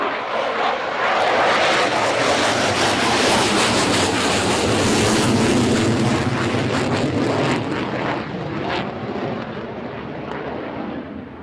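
A Royal Danish Air Force F-16 jet roars past at an airshow, a loud broad jet rush that swells, holds and then fades away.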